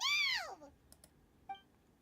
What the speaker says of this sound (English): I have a cat on my desk.